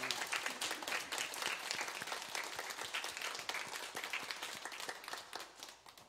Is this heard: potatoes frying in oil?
no